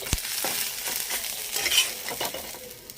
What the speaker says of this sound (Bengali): পাঁচটা ডিম ভাজলাম